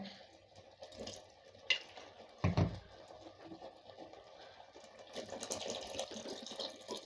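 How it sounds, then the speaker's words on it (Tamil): Water pours and splashes into a pot of drumstick sambar at close range, a soft stream that grows steadier and fuller toward the end. "இப்போ தேவையான அளவு தண்ணி ஊற்றலாங்க"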